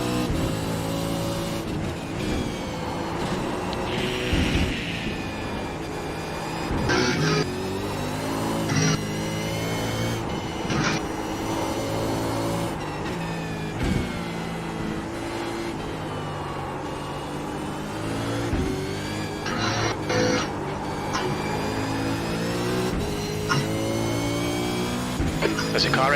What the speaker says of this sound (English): There's a car exiting the pits, heads up.